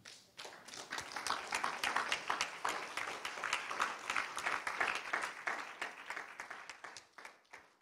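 A church congregation claps steadily in rhythm, a sustained run of even handclaps at moderate distance that slowly fades toward the end.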